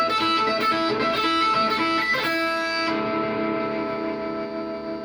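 Electric guitar tapped two-handed through a full-gain overdrive channel, loud and heavily distorted, with bright sustained notes and choppy attacks that settle into a ringing, buzzing sustain with extra string noise.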